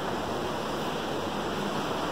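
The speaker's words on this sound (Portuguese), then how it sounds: "Mar do Caribe." Steady broadband wash of Caribbean Sea waves heard from a hotel room at the end of the building above a pool, constant surf roar with no distinct breaks and no talk.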